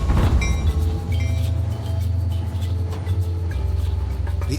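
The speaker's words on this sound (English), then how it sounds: "The Iron Ore Express may take a while to get going, but then it is the longest train in the world." Long Iron Ore Express freight train in the Sahara starting to move, a loud, steady low rumble with faint metallic clanking running continuously throughout.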